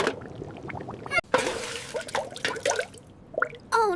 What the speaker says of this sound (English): Now there's way too much sauce. It's dripping.